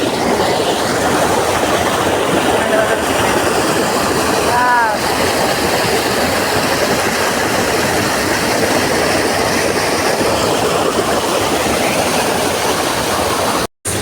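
Water pours over the top of a waterfall in a constant, close, broadband roar that stays even throughout.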